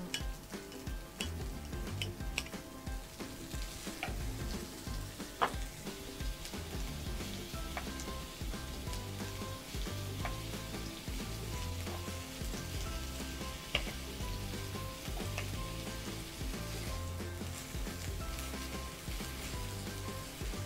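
Onions, with carrots and courgettes to follow, fry and are stirred in a pan, a continuous dense crackling sizzle with scattered scraping clicks of the utensil, steady and close with no talking.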